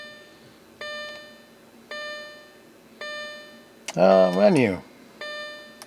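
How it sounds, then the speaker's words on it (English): An Audi A4 warning chime bongs repeatedly at a steady interval of roughly a second, moderately loud inside the car, while a person speaks briefly over it midway. "That bonging is getting really obnoxious."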